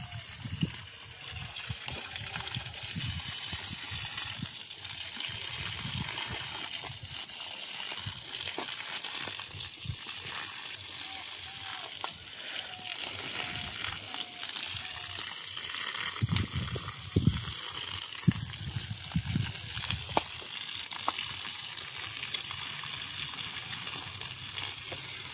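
Water gushes steadily from a hose pipe connected for watering a field in a Sundarbans village garden, a continuous broadband rush that runs throughout with scattered splashes and faint background voices.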